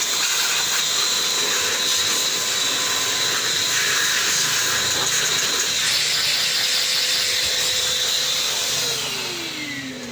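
A vacuum blower blasts dust off a Sharp slim CRT TV with a loud, continuous hiss and a high whine, and the pitch drops as it winds down near the end.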